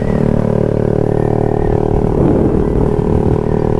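A modified Suzuki Raider 150 Fi motorcycle engine runs loud and close through its aftermarket muffler, giving a steady, rumbling exhaust drone that swells slightly partway through.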